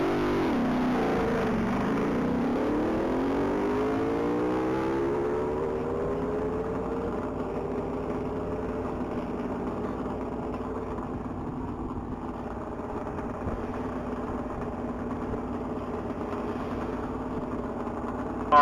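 A 2023 Ducati motorcycle at a one-mile top-speed event sweeps past at high speed, its engine note dropping in pitch as it goes by, then fading into a steady distant drone.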